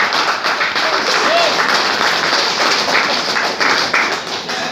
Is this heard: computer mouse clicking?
no